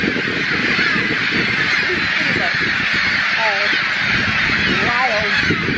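A seagull colony on Snake Island calls all around, many overlapping squawks and honking cries close by, over wind or water noise.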